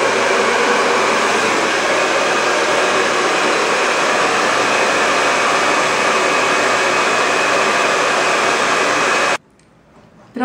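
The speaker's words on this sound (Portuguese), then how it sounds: "eu quero dar uma secada com o secador" A hair dryer drying hair runs loud and steady as a constant close whoosh for about nine seconds, then cuts off abruptly into near silence before a brief return at the end.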